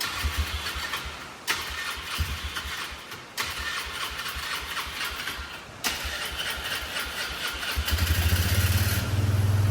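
Old four-wheeler ATV, parked for twelve years, cranking with the choke pulled: several rhythmic starter bursts with brief catches, then the small engine fires and settles into a louder, steady idle, close by.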